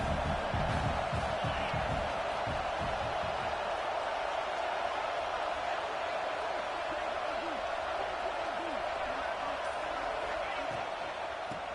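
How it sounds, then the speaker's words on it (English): A football stadium crowd keeps up a steady, loud roar throughout while a commentator talks over the game. "This crowd knows when to bring it."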